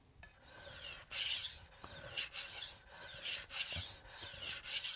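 A Wusthof Classic chef's knife is drawn across a whetstone in close, steady back-and-forth strokes, each one a bright rasping scrape, about eight in a row with short gaps between.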